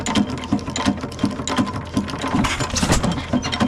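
A Faultless 6 HP stationary engine runs with its piston moving in and out, giving a steady rhythmic knocking about twice per second over constant mechanical clatter, close and fairly loud.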